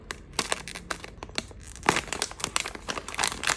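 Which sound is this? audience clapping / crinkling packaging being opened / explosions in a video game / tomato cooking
crinkling packaging being opened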